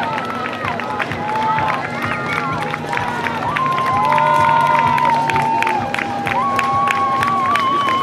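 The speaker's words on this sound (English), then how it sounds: "Oh, cheering for somebody." A crowd cheers a runner crossing the finish line at a Canadian multi-sport race with marathon, half-marathon, triathlon and relay events, a steady loud roar of voices and shouts over outdoor bustle, with people talking throughout.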